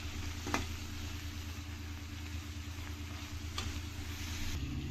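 Soya pieces for methi pulao are stirred and fried in a pan, making a steady, fairly quiet sizzle with a low hum beneath and a few brief scrapes. No voices are heard.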